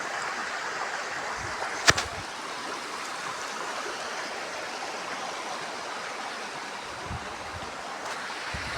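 A village stream flows steadily through a quiet green setting, a continuous even rushing of water heard alone, with one brief sharp knock partway through.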